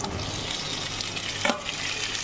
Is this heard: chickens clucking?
no